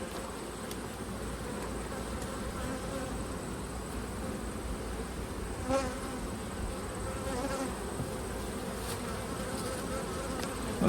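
A dense, steady buzz of many honey bees humming inside a hive, close and continuous, with a few brief louder buzzes passing near.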